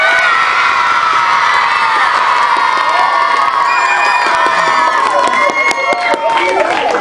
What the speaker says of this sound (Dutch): wil ik eerst even een heel groot applaus voor alle 6 deelnemers.